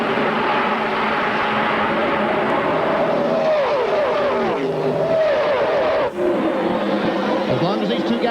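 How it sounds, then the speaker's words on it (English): NASCAR Winston Cup stock cars roar around Talladega Superspeedway during the 1999 DieHard 500, a loud continuous engine drone with rising and falling pitch as cars pass, under crowd noise and a commentator talking. "As long as these two guys run side by side, I'm talking about Mark Martin and John Andretti, it's going to be a two-car race"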